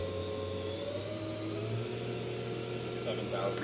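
A 2008 Doosan DNM 400 CNC vertical machining center with a FANUC 0i MC control, its spindle spinning at about 4,000 RPM, gives a steady mechanical hum and whine. The whine holds constant and sits low in the mix.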